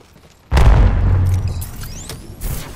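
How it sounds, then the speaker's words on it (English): In Apex Legends, a thermite grenade and an Arc Star go off. One sudden heavy boom is followed by a fading crackling rumble, then a second smaller burst near the end. "Throwing thermite grenade. Throwing Arc Star."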